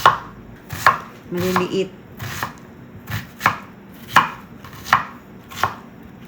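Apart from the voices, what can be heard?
chopping onion with a knife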